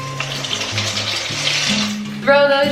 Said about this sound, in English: The water is boiling, so